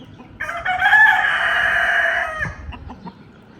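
A rooster crows once, loud and close, a long drawn-out call lasting about two seconds over quiet outdoor background, followed by faint clucking.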